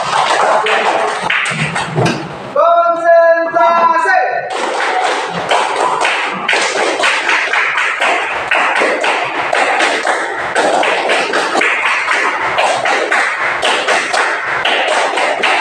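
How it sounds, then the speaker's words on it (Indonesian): A classroom group claps hands together, a loud, fast, steady run of clapping that continues for many seconds, briefly broken near the start by a single spoken word. "Oke, tepuk tangan semuanya."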